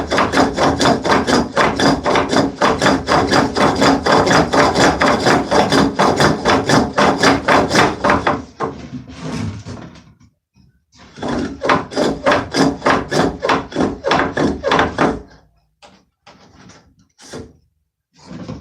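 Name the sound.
rasp shaping wood on a spring pole lathe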